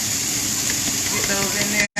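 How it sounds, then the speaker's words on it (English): Chopped onions and green onions hiss in a very hot pan, a bright, even sizzle that holds steady up close before cutting out abruptly near the end. "I'm going to take onions and green onions, and I'm going to put them in this pan"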